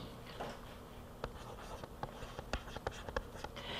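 Chalk or marker writing on a board in a physics classroom, a series of sharp scratchy taps and strokes, fairly close and distinct, with no talking.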